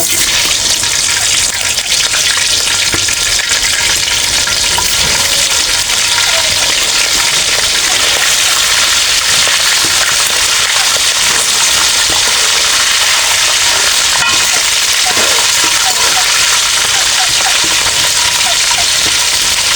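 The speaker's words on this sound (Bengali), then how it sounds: "তেলটা গরম হয়ে গেছে এখন দিয়ে দিব মুরগির মাংসগুলো" A loud, continuous hiss of chicken pieces frying in hot oil, steady and close throughout.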